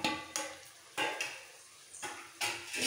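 Green chili paste frying in a pan for a small fish curry, a faint sizzle broken by a few bursts of stirring and utensil scrapes against the pan, no voices.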